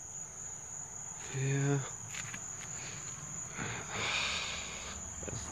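Night insects chirp outdoors in a video game, a steady high trill beneath a brief rising electronic tone and soft game noises, with a single short spoken word.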